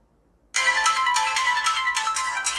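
A ringtone plays from the speaker of an Itel A52 Pro phone. It starts suddenly after a brief silence, then keeps up a bright, repeating melodic pattern, loud and close, with no talking.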